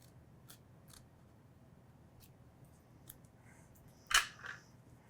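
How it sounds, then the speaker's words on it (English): A single sharp snip of scissors cutting paper, preceded by faint light rustles and clicks over a quiet background hum. "snip with our scissors just from the top down to that first fold line"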